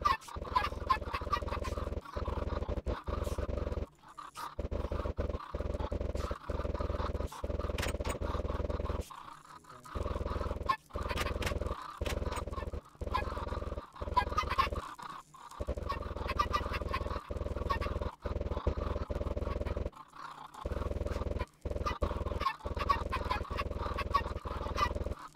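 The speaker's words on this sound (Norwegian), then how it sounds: "Og så kjører vi en timelapse på når jeg spammer dette huset med kyllinger" Minecraft chickens spawned in large numbers inside a house, a dense, continuous stream of clucking and squawking that runs for the whole stretch, broken only by brief gaps of silence, loud and close with no talking.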